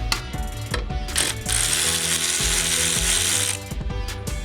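A hand ratchet clicks rapidly and loudly up close, undoing bolts while suspension parts and an ABS sensor are removed from a car, with bursts of pawl clicking alongside metallic clanks.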